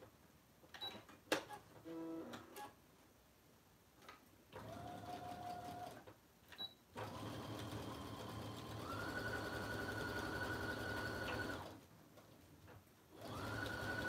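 A sewing machine stitches a messenger bag in short bursts separated by pauses, building to a longer steady run of rapid, even mechanical clatter that is fairly quiet, with no talking over it.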